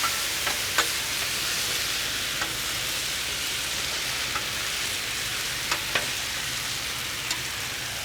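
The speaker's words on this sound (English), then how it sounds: "let's mix it all together" Beef, broccoli and garlic sizzle steadily on a Blackstone griddle, a constant hiss punctuated by a few light clicks and scrapes of tongs as the food is tossed, with no voices.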